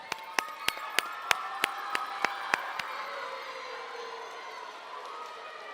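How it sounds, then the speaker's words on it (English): A school awards ceremony audience for fourth, fifth and sixth graders gives a run of about ten sharp, evenly spaced claps that give way to a soft, steady crowd murmur in a large room. "let's give them a nice round of applause"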